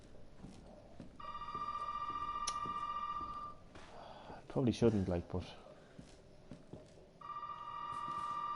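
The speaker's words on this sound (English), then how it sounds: "will I answer the phone?" Telephone ringing in the Resident Evil 7 demo video game, two long harmonic ring bursts separated by footsteps and clatter, with someone talking over it.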